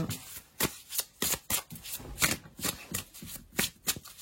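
Dixit playing cards being shuffled by hand, a quick run of about a dozen crisp riffling bursts in an uneven rhythm, close and clear with no talking.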